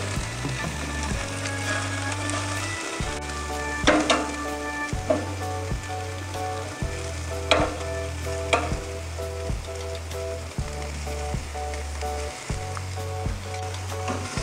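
Beef sizzles on a barbecue grill after being flipped, a continuous crackling hiss with occasional sharper pops, while music plays steadily underneath.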